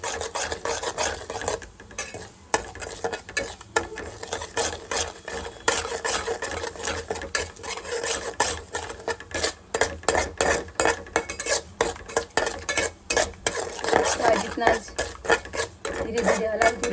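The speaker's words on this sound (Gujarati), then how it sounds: "ધીરે ધીરે હલાવતું રહેવાનું છે ત્યારે ઘી ઉપર ના આવી જાય ત્યાં લગી." A prasad mixture is stirred slowly in ghee in a pan, making a rhythmic, repeated scraping and rubbing with a faint sizzle underneath. The sound stays close and continuous, and a voice may be faintly present behind it.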